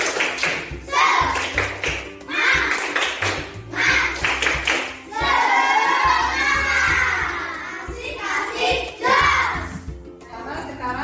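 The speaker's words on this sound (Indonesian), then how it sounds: "kita tepuk semangat dulu ya" A primary school class performs a rhythmic spirit clap, with bursts of patterned clapping and taps mixed with children shouting and chanting together across the room.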